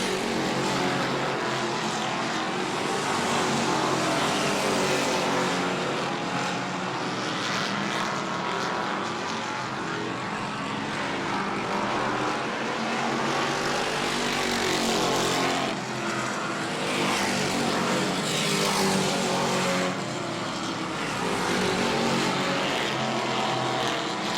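Super stock race cars circle the New Smyrna track late in a 50-lap race, a steady, dense roar of engines sweeping past without pause.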